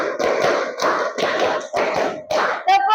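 A group claps a five-beat rhythm twice, sharp hand claps in two quick bursts, loud and close, with brief pauses between bursts and a short voice at the end.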